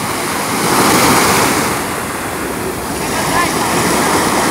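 Large waves break steadily on a Sea of Azov beach at sunset, a loud continuous surf roar that swells and eases with wind buffeting the microphone, no voices over it.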